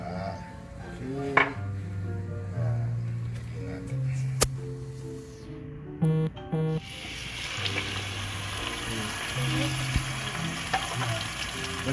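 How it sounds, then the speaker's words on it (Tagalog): Beef shank sears in oil in a pan with a strong, continuous sizzle that flares briefly as it is stirred. Background music plays throughout, and a pot or utensil clanks now and then. "Habang sinisir ni Audrey yung ating beef shank"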